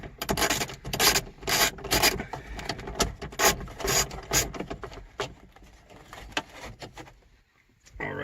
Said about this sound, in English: there's the 4th screw coming out